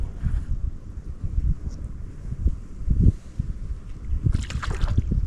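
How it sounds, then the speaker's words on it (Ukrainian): Strong wind buffets the microphone with a steady low rumble that gusts louder and softer throughout. "вітер такий роздувся"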